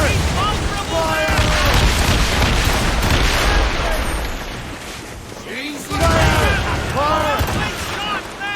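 Cannon fire in a naval battle in Assassin's Creed Rogue: heavy rumbling booms and dense battle noise, loud and continuous, with shouted voices layered over the din.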